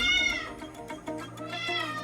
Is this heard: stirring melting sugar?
no